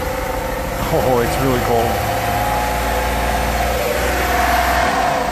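A frozen modern microvan engine with ice on its carburetor runs in freezing weather, holding a steady low rumble and hum throughout. A person speaks briefly over it.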